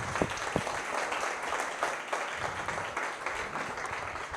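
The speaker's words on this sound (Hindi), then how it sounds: "और ताली तो अच्छी से बजा ले यार" An audience at a de-addiction centre session claps steadily throughout, dense and continuous applause with a few sharper individual claps standing out near the front.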